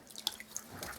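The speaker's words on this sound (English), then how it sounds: "now I'll just give them a rinse in some clean water" Paint brushes rinsed in clean water give brief, quiet splashes and drips, a few soft liquid sounds over about a second.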